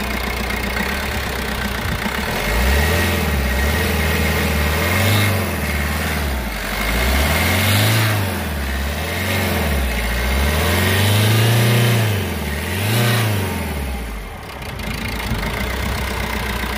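A Maruti Ertiga car engine idles, then revs up and settles back down several times in a row, rising and falling in smooth waves.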